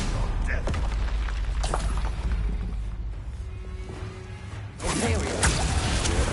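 Booming spell blasts and whooshing magical explosions from Hogwarts Legacy combat rumble loudly and densely, with a fresh heavy burst near the end.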